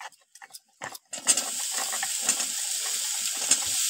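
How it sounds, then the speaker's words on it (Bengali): Chunks of taro hit a pan of fried onions and burst into a loud, steady sizzle after a few soft knocks, with spatula scrapes and stirring clatter repeating through the frying. The dish uses taro with river fish from the Sundarbans. "পেঁয়াজটা ভাজা হয়ে গেছে, এবার আমি কচুগুলো দিয়ে দেবো।"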